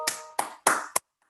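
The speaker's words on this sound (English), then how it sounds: "I shall give you another round of applause on behalf of the entire room" A few close, sharp hand claps, four in quick succession, for a guest speaker at a meeting on robust machine learning, then silence.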